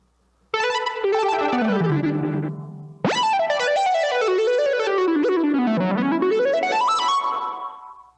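A bright, buzzy synthesizer lead plays a melodic line, first a descending phrase, then after a brief break a longer winding run, loud and up close with no voices.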